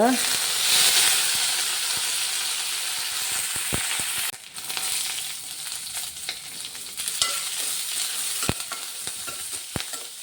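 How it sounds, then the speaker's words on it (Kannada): Onion and green chilli frying in hot oil, a steady, fairly loud sizzle with scattered clicks of a spoon stirring the pan. "ಒಗ್ಗರಣೆ ಹಾಕಿದ ಮೇಲೆ ಒಂದು ಸಣ್ಣ ನೀರುಳ್ಳಿ, 1-2 ಹಸಿಮೆಣಸು ಹಾಕಿದ್ದೇನೆ."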